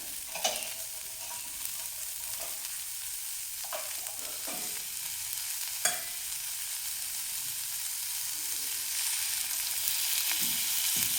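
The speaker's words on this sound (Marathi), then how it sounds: "आता कांदा आपण व्यवस्थित एक मिनिटभर गुलाबी रंगावर परतून घेऊया" Onion sautéing in a little oil in a pan for misal, a steady close sizzle with occasional sharp scrapes of a spoon stirring, continuous and alone without talk.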